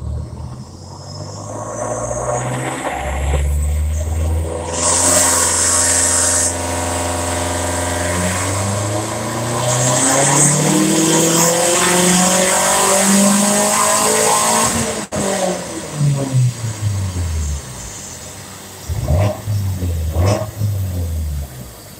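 A 2020 Subaru WRX STI engine on a dyno winds up steadily through the revs under load, loud and sustained, then drops off, followed by a few sharp blips of throttle.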